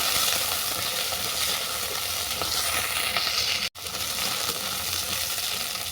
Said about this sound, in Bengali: গোল্ডেনটা হালকা করে ভেজে নেব